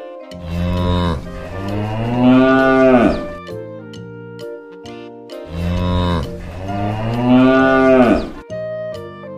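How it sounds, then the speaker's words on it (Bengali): Two long, deep cow moos, each rising and swelling before trailing off, separated by a short pause, loud and close with no talking, from a Bengali children's alphabet song. "গরু বাছুর দাঁড়িয়ে আছে।"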